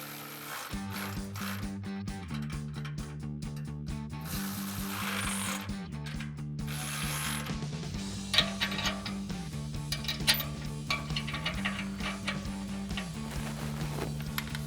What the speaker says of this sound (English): we can come through and tighten this down with an 18 millimeter socket